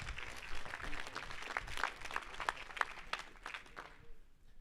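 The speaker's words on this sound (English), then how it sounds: "can we get a huge round of applause?" Audience applause at an annual business meeting, steady clapping from a crowded room that carries for several seconds before tapering off at the end.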